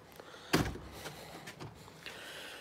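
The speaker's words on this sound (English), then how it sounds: "I've just heard the door open." A door opens in a woodturning workshop with a sharp thunk of the latch, then softer bumps and rattles follow, fairly faint against a quiet room background.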